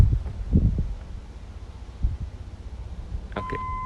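Warning beep from a Land Rover Discovery I with the key left in the door lock, a short steady electronic tone starting near the end over quiet outdoor background noise.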